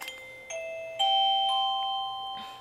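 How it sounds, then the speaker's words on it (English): A classroom doorbell chimes a bright electronic melody of several clear tones, each note stepping in about every half second and ringing out, sounding fairly close and alone. "And this doorbell is a cleanup doorbell."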